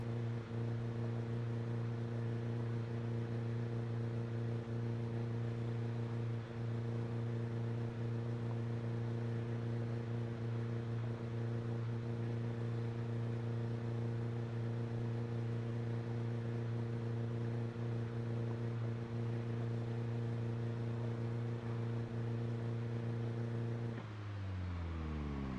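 A car engine in a video game drones steadily at an even pitch while driving, with a constant hum and whir that shifts slightly near the end; no voices are heard.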